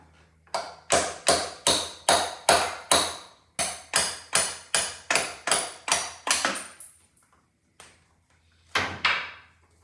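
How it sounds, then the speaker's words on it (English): Hammer blows drive a drift against a retaining pin in the drive shaft of a Subaru Sambar, a quick run of about fifteen sharp, close metallic strikes in steady rhythm, then a pause and two more isolated hits. "These ones, you've got to use a drift and drive them out."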